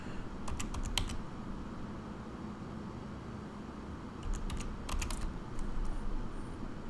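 Keys clatter on a computer keyboard as a verification code is typed in during email account setup, coming in two short bursts of quick keystrokes over a low steady background hum.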